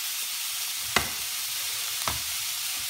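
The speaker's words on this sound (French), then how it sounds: "Hop là, je mets ma viande." Ground meat frying in a pan for lasagna gives a steady close sizzle, broken by two sharp scrapes or taps as it is crumbled with a utensil, with no talking.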